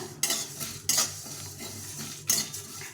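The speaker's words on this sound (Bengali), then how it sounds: "পুরো মশলাটাকে সুন্দরভাবে ভেজে নিতে হবে" Spice paste for raw mango pickle fries in a pan, a soft steady sizzle broken by three sharp metal spatula scrapes against the pan, close and quiet.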